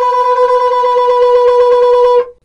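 A shofar blowing the teruah in the Syrian style, one sustained, loud, close horn tone with a rapid trilling flutter running through it for about two seconds before cutting off.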